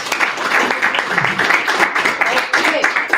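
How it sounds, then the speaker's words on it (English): An audience applauds after a talk at a Python meetup, with steady, close, moderately loud clapping that flutters unevenly and holds throughout. "let's give a round of applause"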